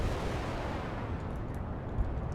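Rocket launch in Kerbal Space Program, a continuous loud broadband roar of engine thrust rumbling steadily for a couple of seconds with no talking.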